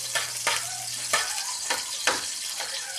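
Garlic sautés in a pan for pork afritada. A close, steady sizzle is broken by four or five sharp stirring scrapes spaced about half a second apart, with no talk.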